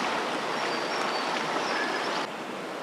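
Swollen after heavy rain, the River Frome in Bristol rushes past as a loud, steady broadband roar of fast water close at hand, continuous throughout with no voices.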